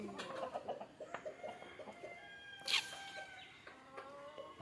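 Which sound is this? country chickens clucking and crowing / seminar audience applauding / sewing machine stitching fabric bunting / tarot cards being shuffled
country chickens clucking and crowing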